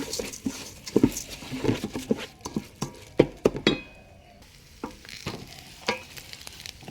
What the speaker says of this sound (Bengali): এই যে চালটা দিয়ে ভালো করে ভাজা ভাজা করে নেব।